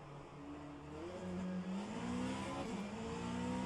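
Race car engine from rFactor 2, a Vanwall Vandervell LMH on Bahrain International Circuit's main straight, droning and climbing steadily through the gears with another car's engine nearby, fairly quiet with no voices.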